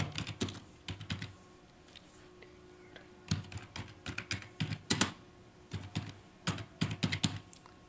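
Typing on a computer keyboard in a training setting, close and fairly quiet, with bursts of rapid key clicks separated by short pauses and no talk over them.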